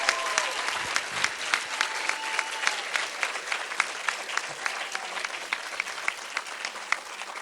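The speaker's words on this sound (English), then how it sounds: "let's give them a big round of applause" An audience applauds the queen and her court at the 2014 Dale Fall Fest queen pageant, dense sustained clapping from a crowd, steady and fairly close throughout with a faint voice or two early on.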